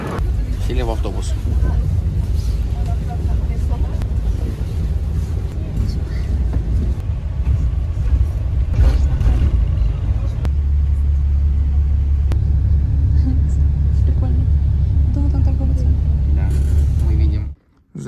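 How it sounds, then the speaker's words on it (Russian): Inside a moving bus in China, travelling to Tianjin: a loud, constant low engine rumble and road drone, deepening partway through, with people talking over it. "Сели в автобус."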